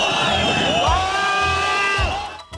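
An angry crowd of protesters in Gyumri shouting and jeering at an official retreating into a building, a dense roar of many raised voices with a few sustained yells rising above it, close and loud throughout.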